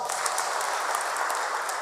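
A crowd applauds in a dense, continuous patter, steady and fairly loud, with some talk faintly under it.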